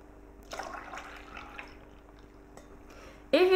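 Milk poured into a bowl of heavy cream: a soft, close liquid splash and trickle for a second or so, then quieter, ending with a sudden louder clatter.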